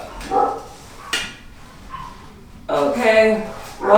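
Dog barking in agitated bursts indoors, several sharp barks and yips spread irregularly through the moment, fairly close, with some speech-like sound mixed in.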